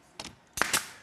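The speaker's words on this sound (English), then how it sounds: "a quick little brad nail gun is going to get you trim pieces in" A small brad nail gun fires into trim pieces on a tiled headboard, giving two quiet, sharp snapping shots a fraction of a second apart against near silence.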